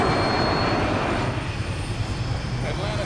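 Jet airliner in an uncontrolled dive descending from 21,000 feet, a loud continuous engine and rushing wind roar filling the cabin, steady and close throughout.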